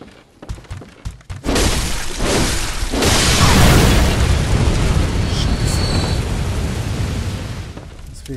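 A loud explosion in the video game Bloodborne bursts with a shattering boom and then rumbles on as a sustained, roaring wash of noise, with a voice briefly audible.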